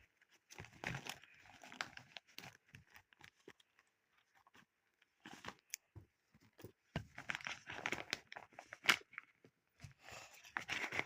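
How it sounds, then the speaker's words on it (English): Packaging from a big box of toy animals (zebra, rhinoceros, giraffe, cheetah) crinkles and crunches in irregular close bursts, with pauses between handling. "Let's unbox this big one."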